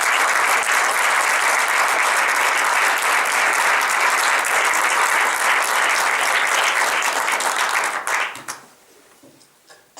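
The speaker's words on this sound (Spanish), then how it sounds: "Un aplauso para todos ellos." Sustained applause from an audience at a Spanish book launch, loud and steady for about eight seconds, then quickly dying away to near silence.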